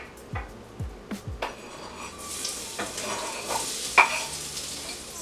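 Cut potatoes frying in a pan and being stirred: a few utensil clinks against the pan, then a steady close sizzle with scraping stirs running underneath.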